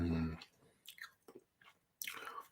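Someone chews cherries close to the mic, with wet, squishy mouth bursts in short clusters after a brief opening sound.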